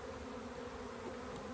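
Honey bees drone in a dense, steady buzz at the entrance of a backyard beehive in the evening, a continuous low hum with no pauses.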